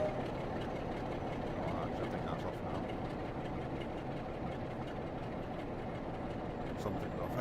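Steady, loud rumbling train noise in Train Sim World 5, a continuous low engine and rail roar with faint clicks, speech faintly beneath it.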